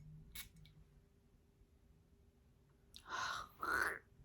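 Two short, close hissing sprays of a pure vanilla perfume, one right after the other, following a faint click in an otherwise quiet room.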